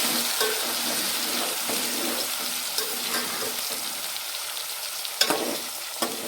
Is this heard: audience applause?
no